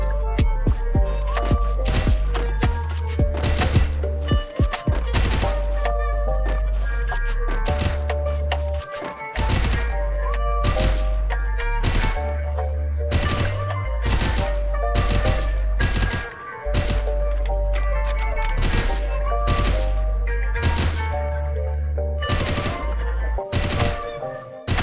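Rapid, loud bursts of automatic gunfire from a mobile shooter game played on Bluestacks 5, firing in dense repeated volleys with brief pauses throughout, close and dominant.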